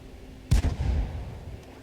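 A tank gun fires once at enemy tanks in World of Tanks, a sudden heavy boom followed by a rumbling tail that trails off over the next second.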